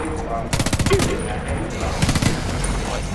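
Automatic gunfire in the video game Homefront: Revolution, a few rapid bursts from a submachine gun fired near the player, with quieter ambient noise between the volleys.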